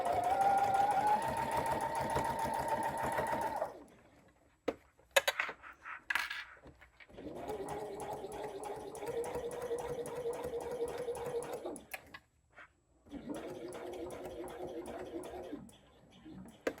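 A sewing machine stitches a seam on a paper pouch in three steady whirring runs, broken by short pauses with small clicks and handling noises, close and clear.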